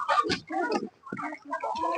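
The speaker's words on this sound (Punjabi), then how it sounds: "ਇੱਥੇ ਕਬੀਰ ਨੇ ਦੇਸੀ ਮੁਰਗੀਆਂ ਦਾ ਕੰਮ ਸ਼ੁਰੂ ਕੀਤਾ ਹੋਇਆ" Desi hens on a poultry farm in Sinniwal Khurd village, Barnala district, cluck in short, close bursts with brief pauses between calls, heard alone.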